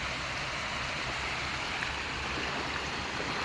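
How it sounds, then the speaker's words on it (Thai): Water rushes strongly over a flooded overflow weir, a dense, continuous roar of flowing water heard up close with no breaks. "ผมฟังเสียงน้ำมันไหลลงไป ผมก็รู้แล้วว่ามันแรง"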